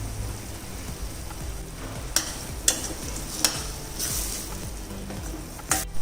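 Onion and a large finely chopped tomato sauté in a pan for paneer tikka masala, a constant close sizzle broken by several sharp scrapes and taps of a stirring spoon.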